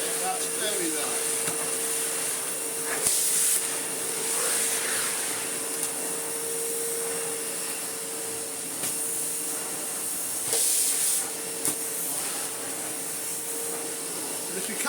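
A 1990s Hitachi Powerhouse CV7100 vacuum cleaner runs steadily with a constant airy hiss and a fixed whine as it is pushed over a rug, with slight surges in suction; a voice talks over it.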